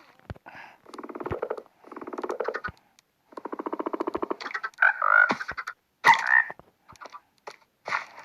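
Repeated croaking bursts from a frog in a video game, rhythmic and buzzy, followed by a few squeaky chirps and clicks, fairly close and clear.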